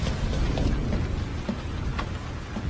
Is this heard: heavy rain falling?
yes